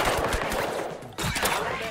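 Rapid gunfire in the online game Deceive Inc crackles in quick bursts over two seconds, with a brief pause partway through.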